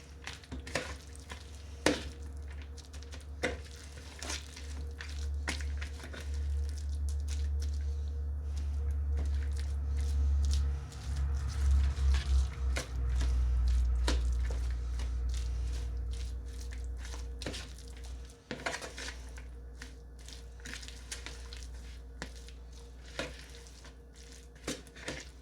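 Crab coleslaw is stirred and mixed in a bowl, with soft wet squishing and scraping over a steady low hum, punctuated by occasional sharp clicks and knocks.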